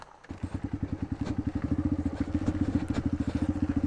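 A motorcycle engine starts up and thumps in a fast, even rhythm on a mountain road between La Union and Kibungan, close and steady with no talk over it.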